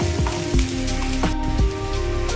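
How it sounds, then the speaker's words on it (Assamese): Sliced onions and green chillies hit hot oil, giving a close, continuous sizzle with occasional sharper pops. "তেল গৰম হৈ গ'ল। এতিয়া মই পিয়াজ আৰু কেঁচা জলকীয়া দিছোঁ।"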